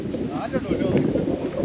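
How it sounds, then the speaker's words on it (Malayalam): Steady wind buffets the microphone in a low rumble, with a faint voice underneath. "നല്ല കാറ്റുണ്ട് കേട്ടോ"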